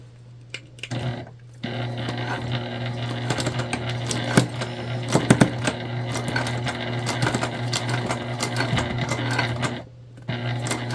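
A sewing machine stitching a candy bag closed, running in a steady fast hum of needle strokes for several seconds with short pauses at the start and near the end, close and loud.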